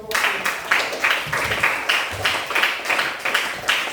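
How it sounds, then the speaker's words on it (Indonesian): Classroom students applauding a presenting group, a burst of brisk rhythmic clapping with repeated surges, fairly close and loud, with no talk over it. "silakan tepuk tangan untuk kelompok"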